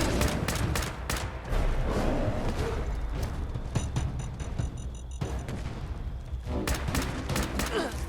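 Rapid, dense bursts of gunfire rattle almost continuously while shooting a legendary jaguar in Fallout 76, loud and close, with a short lull midway and a faint electronic beeping.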